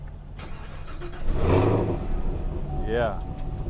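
A Chevrolet Camaro ZL1 engine idles with a steady rumble, then swells into a loud rev around the middle and settles back, heard up close with voices chatting over it.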